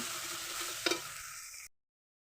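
Spice paste with turmeric and salt frying in oil as it gets stirred, a brief, faint sizzle with one quick scrape of the spoon before it cuts off.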